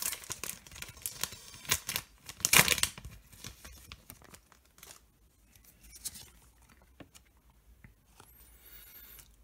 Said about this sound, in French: chaque fois il faut que je sleeve chaque carte